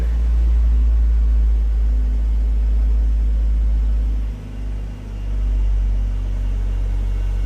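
A fuel-injected engine in a 1984 Chevrolet Cavalier convertible idles close by with a steady, heavy low rumble, dipping briefly once before settling back to an even idle.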